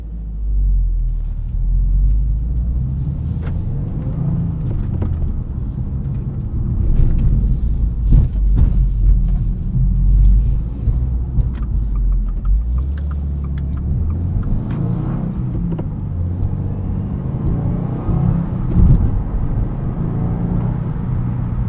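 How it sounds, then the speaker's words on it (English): A 2024 Subaru WRX TR on the move, heard from inside the cabin: a steady low engine and road rumble that swells and eases with throttle over about twenty seconds, with no talking. "let's go drive the Subaru WRX"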